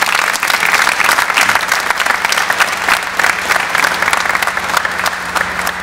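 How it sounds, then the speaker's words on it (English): Loud, sustained applause from a large audience at a university Founders Day ceremony honoring awardees, a thick continuous roar of clapping hands with a steady low hum beneath it, no voices. "Would you give them one more round of applause"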